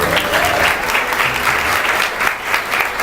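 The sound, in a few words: audience applause at Pentecost festival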